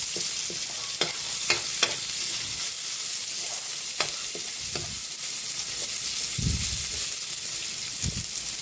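Chopped onion hits a hot pan for sautéed bitter gourd, giving a steady, close frying hiss broken by a few sharp stirring scrapes and clicks, with no voices.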